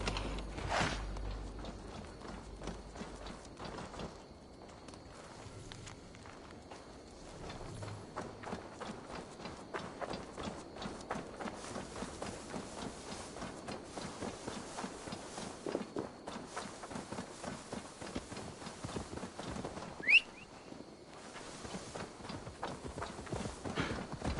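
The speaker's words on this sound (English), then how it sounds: "Now to deliver Magni his horse" Horse hooves clip-clop steadily in the Assassin's Creed Valhalla video game, a continuous rhythmic trot that runs throughout at moderate volume, with a brief sharp sound near the end.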